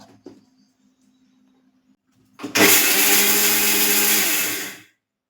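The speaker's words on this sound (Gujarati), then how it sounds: "આ બધી દાળ છે તે મિક્સરમાં આપણે દરદરો પાવડર તૈયાર કરી લેશું" After a few quiet seconds, a kitchen mixer grinder starts with a loud, high-pitched whir, coarsely grinding pigeon pea lentils into powder for about two seconds before it spins down and stops.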